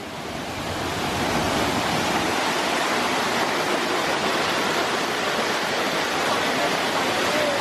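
Roaring waterfall swollen by a lot of rain, a loud, unbroken wash of white water that builds in the first second and stays powerful and close throughout.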